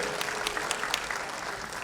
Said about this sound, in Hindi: प्लीज जोरदार तालियां इनके लिए